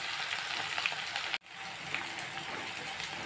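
Onions frying in hot oil with cinnamon and fennel for prawn biryani, a dense, steady sizzle close by, briefly cut off by a momentary drop before resuming, no talking.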